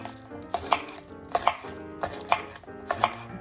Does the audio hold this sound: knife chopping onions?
yes